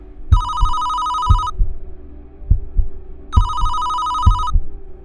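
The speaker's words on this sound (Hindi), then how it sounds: "उसी पल लैंडलाइन फोन फिर से बज उठा" A landline telephone rings in two separate bursts of electronic trilling, loud and close, with a low, thumping heartbeat-like pulse running underneath and no voices.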